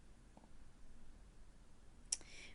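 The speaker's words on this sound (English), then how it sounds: "if you do not need these, you can right click and click on delete" A computer mouse gives a single crisp click near the end of a quiet stretch, close and distinct against faint background hum.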